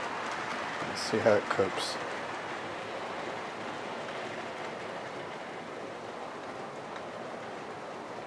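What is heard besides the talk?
Hornby Bristolian model train running up an incline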